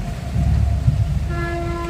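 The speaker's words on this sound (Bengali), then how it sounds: "ট্রেন যাচ্ছে, শুনতে পাচ্ছ?" A train rumbles past close to a new house, a low steady roar under rain-cooled air, with sustained horn-like tones sounding over it in the final stretch.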